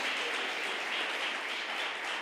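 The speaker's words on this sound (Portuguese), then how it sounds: "Você pode aplaudir o nome do Senhor." Church congregation applauding, steady dense clapping throughout with no voices over it.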